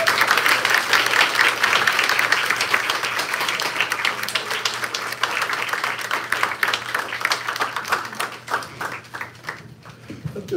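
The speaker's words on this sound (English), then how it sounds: "Give the warmest applause for Ilya Kaminsky." Warm audience applause for poet Ilya Kaminsky at a reading, a full room clapping steadily, then thinning into scattered individual claps as it winds down.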